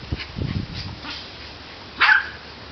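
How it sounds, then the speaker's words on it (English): A dog gives a few soft yips and whines, then one sharp bark near the end, with some light thumping early on, while playing tetherball alone. "that was my dog Carly playing tetherball by herself with my mom hitting it"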